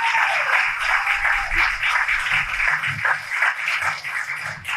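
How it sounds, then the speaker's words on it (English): Outdoor crowd at a groundbreaking ceremony for a Rotary splash park at Anderson Snow Park, clapping steadily for several seconds, dense and fairly loud with some low rumble beneath. "How about a round of applause for that?"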